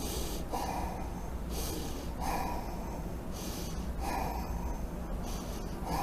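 Deliberate breathing demonstrated during a talk on voluntary and involuntary respiration: a steady cycle of audible inhales and exhales, about three to four breaths, close and alone with no talking.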